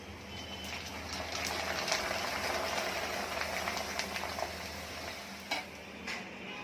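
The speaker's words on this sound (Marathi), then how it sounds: "या मका पोहेला तेल कमी लागतं, पटकन तळून होतं ते" Maize poha deep frying in oil for crunchy makka chivda, a steady low bubbling sizzle running throughout with a few faint clinks of a utensil, moderately quiet and without talk.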